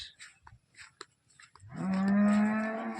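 A medium-sized two-tooth cow at a cattle market gives a single sustained, loud moo close by, following faint background murmur.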